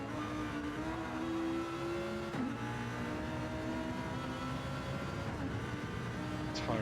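A Lamborghini Huracan race car in a racing video game roars from the onboard view around Laguna Seca. The engine holds a steady loud drone with rising and falling revs throughout, and a brief shift partway through.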